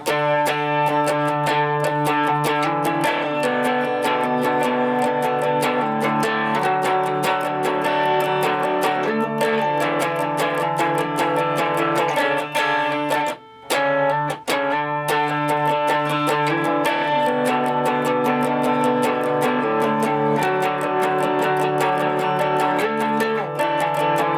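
Distorted electric guitar plays a song riff in full: a continuous driving run of picked notes and slides, loud and alone, with two brief gaps near the middle.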